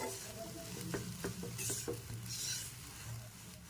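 Sattu being stirred into pea kachori filling in a pan, soft scraping strokes over a faint low sizzle, quiet and close with no talking.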